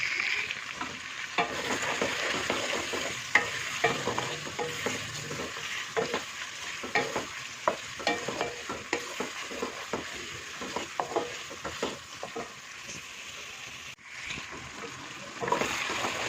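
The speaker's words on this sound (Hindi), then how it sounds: "अदरक और लहसुन डालने के बाद भून लिया हमने" Chicken pieces fry with ginger-garlic paste in a pan while a spoon stirs them. The sizzle is steady and close, with repeated scraping strokes throughout and a brief pause near the end.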